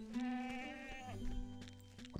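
Goats bleating in the fantasy role-playing game Ultima IX: Ascension, a long wavering bleat followed by another overlapping cry, clear and close with no talk.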